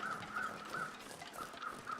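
Crows cawing in the snowy wilderness of The Long Dark, a series of six short, faint caws at an uneven rhythm that sound distant and quiet.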